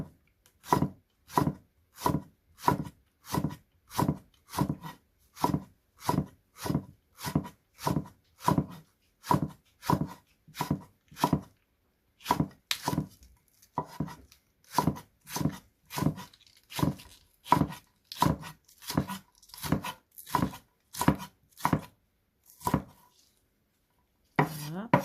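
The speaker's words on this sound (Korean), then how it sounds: "그냥 썰겠습니다" A knife chops a Korean radish into thin julienne strips on a cutting board, with a steady run of crisp, close, evenly spaced strokes and a brief pause near the end.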